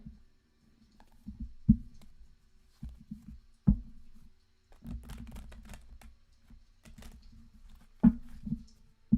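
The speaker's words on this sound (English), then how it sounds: "And it shuffles so nicely." Bursts of riffling and soft slapping as a tarot card deck is shuffled close up, several short flurries separated by quiet gaps, no voices.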